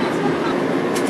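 A passenger train rolling on rails as it departs Washington, D.C., heard from inside as a steady, dense rumble and hiss throughout, with no clear talk.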